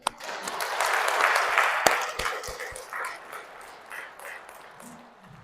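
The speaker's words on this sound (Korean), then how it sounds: "이분들 박수 한번 쳐주세요." Church congregation applauding at a Seoul Catholic parish, a broad steady wash of clapping that swells and then tapers off, with a few sharp knocks and some faint murmuring in the room.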